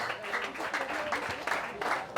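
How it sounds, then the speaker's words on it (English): Audience at a book awards ceremony applauding, a short burst of many hands clapping steadily at moderate level. "Huge round of applause."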